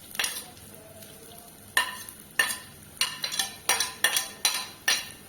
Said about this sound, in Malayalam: അപ്പം മോള് സവാള വഴറ്റിക്കൊണ്ടിരിക്കുകയാണ്